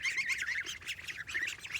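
Ducks and geese honking and quacking together in a busy, overlapping chorus, close by and steady throughout.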